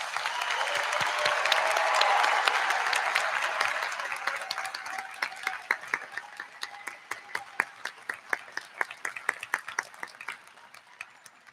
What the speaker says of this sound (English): Let's have a round of applause for this amazing group of graduates.